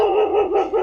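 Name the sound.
dogs barking at a dog shelter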